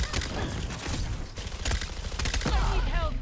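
Dense gunfire from the Concord hero shooter video game, rapid clattering shots and impacts in a busy mix throughout, with a player talking over it.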